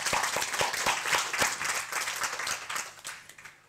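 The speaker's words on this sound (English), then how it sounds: "Give him another round of applause." An indoor audience gives a warm round of applause at a communications class, with many hands clapping briskly and close by before the clapping fades out.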